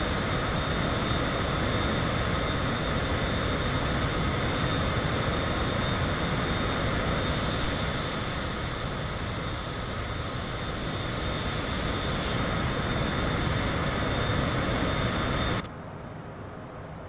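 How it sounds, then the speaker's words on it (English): A Cessna Citation CJ4 business jet passing in a flight simulator game at night over MetLife Stadium, with a loud, steady jet roar that drops off abruptly near the end. "A little bit of a flyby for all you Jets fans, alright?"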